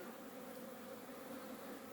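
A steady, dense hum of many honeybees buzzing continuously around their hive, a constant drone with no pauses.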